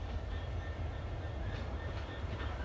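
A Class 66 freight train passes through Crewe station, a steady clickety-clack rumble of wagons rolling by at moderate distance, with no voices.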